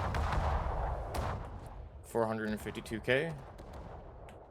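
Deep booming salvos from the secondary guns of the German battleship Mecklenburg in World of Warships, rolling and continuous beneath a voice talking over the gunfire.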